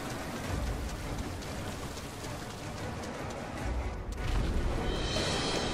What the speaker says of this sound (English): It's raining, and it actually looks like it's raining.